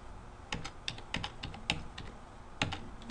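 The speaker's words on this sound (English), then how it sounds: "Let's make sure that if we type in 2 non-equal numbers," Keys on a computer keyboard click in short irregular bursts as numbers are typed, crisp and close, with brief pauses between keystrokes and no talking.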